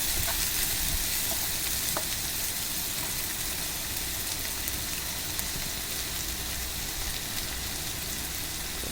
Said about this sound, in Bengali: পেঁয়াজ বাটা দিব। এগুলো ভালোভাবে কষিয়ে স্বাদ মতো লবণ দিব।